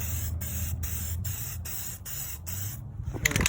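A spray can lays thin coats of color-matched paint on 2017 Chevy Silverado door panels, a loud close hiss in short sweeping bursts separated by brief gaps, ending with a faint rattle.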